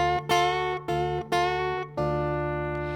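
Guitar notes in slide-style blues, open D tuning, with a string bend: several plucked notes in quick succession, then a held, ringing note, close and clear with no talk.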